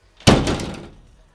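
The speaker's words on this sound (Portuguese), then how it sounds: "Tampa da caçamba, porta da caçamba, não tem um alívio para abaixar." Pickup truck tailgate on a new Ford Ranger dropping open without dampening, one sharp thunk followed by a short fading rattle.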